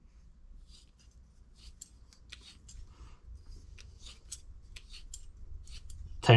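A hand tool is spun around a copper pipe and tightened, giving repeated short scraping, ratcheting clicks in quick bursts, close and fairly quiet, ending in a louder clatter.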